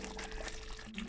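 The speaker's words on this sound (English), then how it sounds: "so I'm going to add in a little bit of water." About a cup of water is poured into simmering spicy Saoji chicken curry gravy, a short, quiet trickling splash close by with no talking.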